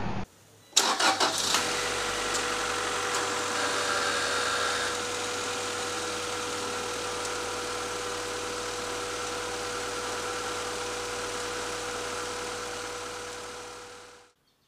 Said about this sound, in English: I'm going to put the cap on and run the engine for a minute, shut it off